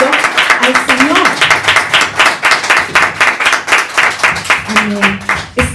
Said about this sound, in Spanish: Puedes dar un fuerte aplauso al Señor.